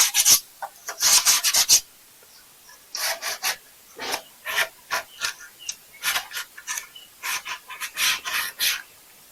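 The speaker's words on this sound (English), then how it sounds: "we'll just sand, rough it up" Hand sanding to rough up a surface, a loud dry rasping in repeated back-and-forth strokes, first in a quick cluster, then after a short pause in a steady rhythm of separate passes.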